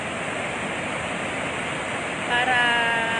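Water rushing out of a dam as it releases flow during Typhoon Ulysses, a steady, loud, broadband roar that holds evenly throughout, with a brief voice-like tone rising over it near the end.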